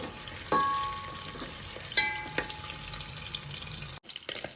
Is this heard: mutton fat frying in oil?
yes